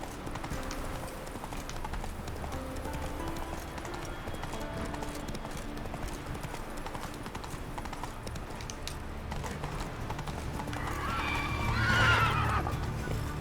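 Roach, a horse in The Witcher 3, gallops in steady rhythmic hoofbeats with a loud whinny near the end, set against a low game ambience.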